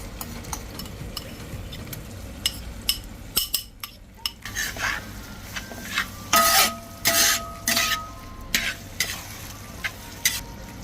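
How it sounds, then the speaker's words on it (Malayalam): Ginger garlic paste sizzling in a hot pan for biryani, a steady frying hiss broken by a spoon scraping, stirring and clinking against the metal pan. "ഇനി ഒന്ന് വാട്ടിയെടുക്കാം. ഇനി നമുക്ക് ജിഞ്ചർ ഗാർലിക് പേസ്റ്റ് ഇട്ട് കൊടുക്കാം."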